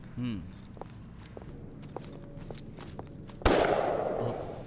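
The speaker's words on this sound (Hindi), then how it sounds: "ये तो गोली चलने की आवाज है।" A single sharp gunshot blast rings out from a phone and fades with a noisy tail, after quiet shuffling and a faint jingle.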